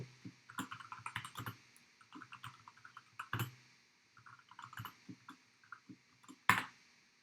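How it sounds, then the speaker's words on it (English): A message is typed on a computer keyboard in quick bursts of close key clicks, separated by short pauses and ending in one sharper tap. "what we can do now is write a message to Charlie"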